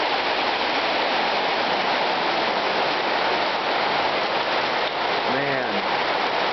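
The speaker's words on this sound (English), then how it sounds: "It is really coming down right now." Heavy rain pours down outdoors in a storm with lightning, a dense, steady, loud hiss of downpour throughout, with a brief faint tonal call near the end.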